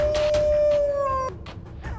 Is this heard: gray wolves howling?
yes